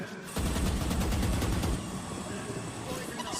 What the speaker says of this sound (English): the gun fight goes in favor of Boaster